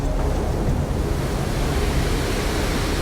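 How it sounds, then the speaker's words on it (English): Ocean surf heard from nearby but out of sight, a steady broadband wash of breaking waves with a faint wind rumble, continuous and fairly loud with no talk. "It's a weird thing being able to hear the waves but not see it yet."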